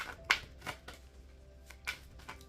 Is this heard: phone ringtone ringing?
no